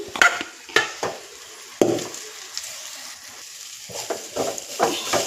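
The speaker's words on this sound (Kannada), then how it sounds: "ಈಗ ಇದಕ್ಕೆ ನಾವು ಮೊದಲೇ ಮಾಡಿಟ್ಕೊಂಡಿರೋಂಥ ರೈಸ್ನ ಈ ಥರ ಹಾಕ್ಕೊಳ್ಳೋಣ" Cooked rice is tipped into a pan of fried spices and stirred, with a soft frying sizzle underneath. A spoon scrapes and knocks in several distinct strokes.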